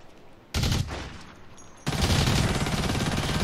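Bursts of gunfire in the first-person shooter Blacklight: Tango Down: a loud broadband volley near the start, a short lull, then sustained rapid firing that carries loudly to the end, with no voices.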